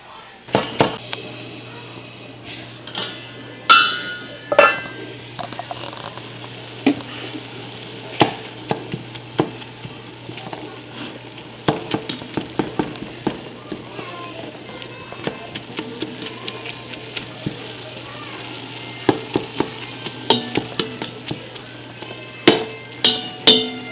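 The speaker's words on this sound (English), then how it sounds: "while I have the hamburger cooking" Ground hamburger meat frying under a lid in a pot for chili gives a steady low sizzle over a faint constant hum, broken by frequent sharp clanks and taps of utensils and cookware throughout.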